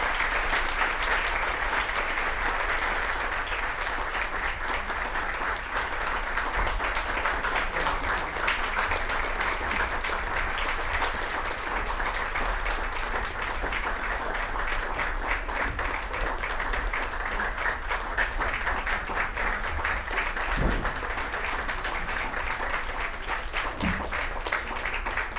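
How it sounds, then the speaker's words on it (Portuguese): An audience in a chamber music hall applauds a string orchestra from Volta Redonda, a steady, dense wash of many hands clapping that holds at full strength throughout without fading. "aplaudir intensamente a orquestra"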